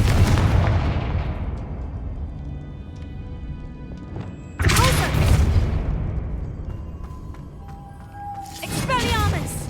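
Confringo spell blasts in Hogwarts Legacy, two loud booming explosions with long decaying rumbles, the second sharp and sudden, followed by a further burst of activity near the end.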